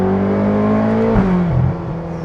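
A Ferrari California's 4.3-litre naturally aspirated V8 revs loud and close, a steady tonal drone that climbs, dips around a shift, then settles, with no voices over it.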